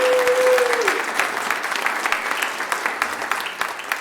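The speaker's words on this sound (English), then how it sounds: "I want to give them a round of applause." A church congregation applauds at a Sunday service, a dense, sustained burst of clapping that starts strong and slowly thins out over a few seconds.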